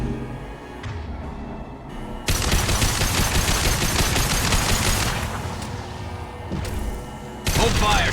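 Heavy rapid gunfire erupts in a Mass Effect 2 battle, a dense, loud barrage that runs almost continuously after a brief quieter opening, with short lulls and renewed volleys near the end.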